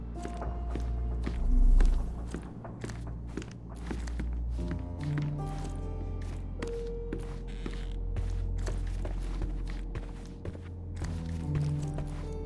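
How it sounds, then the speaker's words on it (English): Footsteps on an upper floor in the detective game Sherlock Holmes Chapter One, a run of soft irregular thuds and taps over a low ambient hum, with occasional heavier knocks. "I heard footsteps upstairs a second ago."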